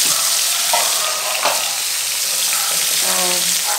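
Pumpkin pieces fry and sizzle in a spiced tempering in a home kitchen, a steady loud hiss broken by a few clinks and scrapes of stirring, with no talk over it.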